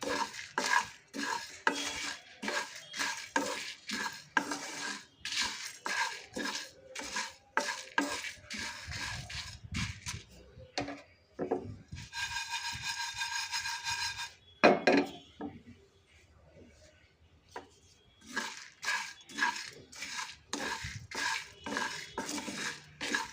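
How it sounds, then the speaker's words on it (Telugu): Dried red chillies are stirred and roasted in a pan for spice powder, with a steady run of close scraping and clinking strokes, a brief pause of softer sizzling, then more rapid stirring. "ఇప్పుడు ఎండుమిర్చి వేసుకోవాలి వేసి వేయించాలి"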